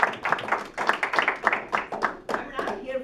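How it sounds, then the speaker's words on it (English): An audience at a jobs club gathering claps in a warm round of applause, irregular bursts of hand claps continuing for a few seconds with voices mixed in. "don't you think he deserves a round of applause for that?"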